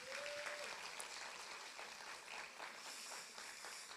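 A church congregation gives a big round of applause during a Sunday worship service, dense steady clapping filling the hall throughout, with a brief sustained voice or tone near the start.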